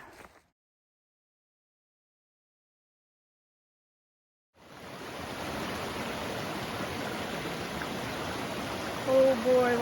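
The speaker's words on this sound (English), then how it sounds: "Oh boy, water crossing." Water on a hiking trail crossing in spring rushes and splashes steadily after about four seconds of near silence, a broad close hiss lasting to the end.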